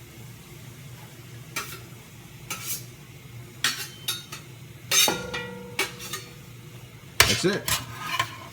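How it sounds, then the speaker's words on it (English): Roasted peppers scraped off a board into a pot for marinara sauce: several short scraping and clattering strokes of a utensil against cookware, close and moderately loud over a low steady background, with a brief spoken remark. "Scrape it right up. Goes right into the pot, folks."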